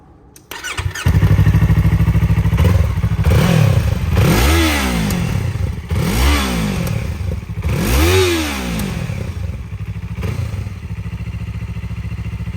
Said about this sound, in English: Before we take the stock exhaust off, we're going to go ahead and do a cold start so you can hear what it sounds like.